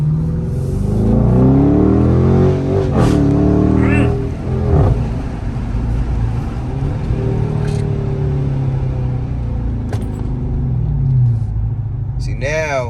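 A 2023 Dodge Charger Daytona with a manual gearbox is driven at full throttle, its exhaust rumbling steadily and loud through the whole stretch, with rising revs and gear changes beneath someone talking in the cabin.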